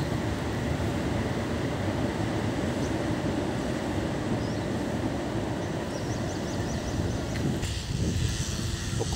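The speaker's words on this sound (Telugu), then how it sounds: "వస్తుంది ట్రైన్." A train approaches on the Sungai Kadut railway bridge in Singapore, a steady low rumbling drone throughout with a faint squeal and clatter building near the end.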